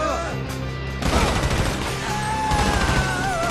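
Dense gunfire and explosive crashes from a shootout in the game GTA V, continuous and loud, layered with music and background game noise, with a voice briefly heard.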